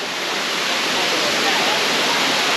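Laurel Falls in the Great Smoky Mountains rushes as a close, loud, steady wash of falling water that fills the whole moment without a break.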